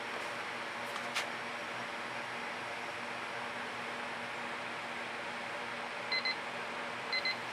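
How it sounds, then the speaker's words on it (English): A kitchen-style timer beeps in a fluid art workspace. Two brief pairs of high electronic beeps sound near the end, moderately faint, over a constant fan-like background hiss. "That's our timer again."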